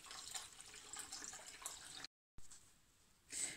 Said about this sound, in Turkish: Bu şekilde limonatamızı süzdürelim.